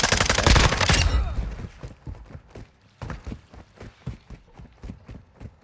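Hip-fired gunshots in Call of Duty: a loud opening burst followed by a string of quicker, lighter single shots and clicks, close and without talk.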